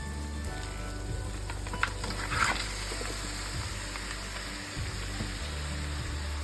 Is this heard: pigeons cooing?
no